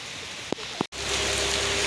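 Steady rain falls outside a house as a broad, even hiss, broken by two soft knocks and a short cut, then it returns slightly louder.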